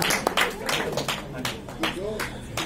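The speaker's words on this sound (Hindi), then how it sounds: "तालियां बजा दीजिए, हौसला बढ़ाइए इनका" Audience clapping at a live Hindi film song performance, sharp irregular claps from a small nearby group that come in uneven bursts, with talk running through the clapping.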